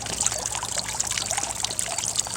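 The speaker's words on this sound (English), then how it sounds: "now the water is kind of flowing out a little bit right there" Garden pond water trickles and pours steadily out over a plastic liner, a continuous close splashing stream with no talking.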